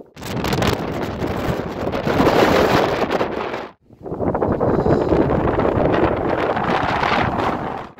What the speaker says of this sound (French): C'est vraiment beaucoup de vent.